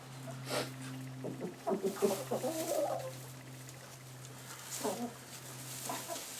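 Chickens and roosters cluck in a short, scattered burst near the middle and again toward the end, moderately close, over a steady low hum of background noise.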